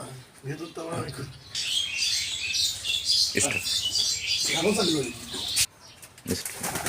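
Pigeons in a coop coo and rustle close by, soft throaty calls and fluttering mixed with someone talking over them.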